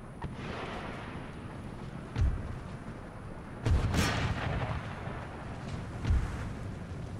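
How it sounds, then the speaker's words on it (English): Cannon fire in the strategy game Empire: Total War: three heavy booming shots at uneven intervals, each a low thump with a rumbling tail, over a constant background hiss of battle ambience. "And now the cannon."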